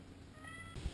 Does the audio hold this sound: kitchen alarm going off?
no